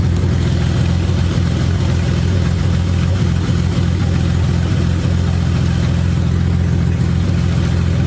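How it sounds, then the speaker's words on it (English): A BMW E30 engine with an aftermarket tune runs shortly after its first start-up, a loud, close, steady low mechanical drone with a strong rumbling hum held for the full length, no clear rise or fall in pitch, and no voices. "I'm gonna rev this thing because there is a verbal tune on it"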